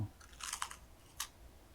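Quiet crisp crunching bites of fried shrimp toast, a couple of short bursts of crackly chewing close to the mic.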